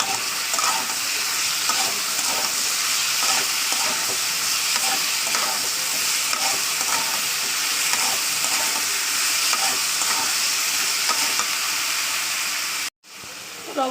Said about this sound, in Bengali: আমি 1 চামচ লবণ 1 চামচ হলুদ দিয়ে দিয়েছি, দিয়ে ভালো করে আলুটা একটু মাখিয়ে নেবো